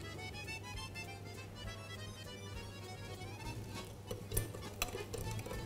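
A spoon stirs chocolate muffin batter, with oil just added, in a mixing bowl, making a soft steady churning with a few light clinks against the bowl toward the end, all over a constant background hum.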